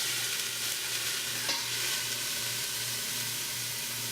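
Onion or shallot sizzles gently in oil in a pan, a faint, even, continuous frying hiss heard alone without voices.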